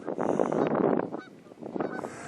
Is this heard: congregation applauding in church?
no